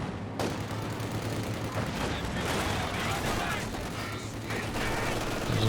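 Dense bursts of MG42 machine-gun fire and other gunfire in a Company of Heroes 2 battle, a steady wash of crackling shots and rumble that runs for several seconds, with a voice talking over it.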